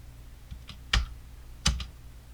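Two distinct key presses on a computer keyboard, the Home key then the spacebar, each a sharp close click with a light rattle, spaced under a second apart in a quiet room.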